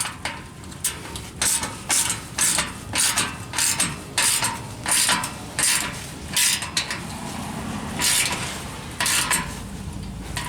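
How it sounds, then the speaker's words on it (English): A ratchet tightens exhaust bolts in a series of quick, close clicking bursts, each run of rapid ratcheting separated by short pauses, repeating steadily. "start tightening the other side down"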